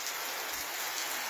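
A constant downpour gives a bright, uniform rushing hiss that stays close and level from start to finish, with nothing else heard.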